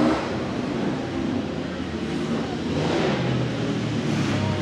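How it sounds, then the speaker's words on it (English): A Ducati motorcycle, number 17B, races past at a Flatout Fargo twins race, its engine a loud, continuous roar with swelling rises as it passes, heard from trackside amid broad crowd and track noise. "That's a Ducati"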